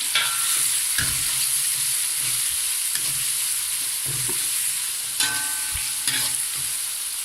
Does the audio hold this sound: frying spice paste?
yes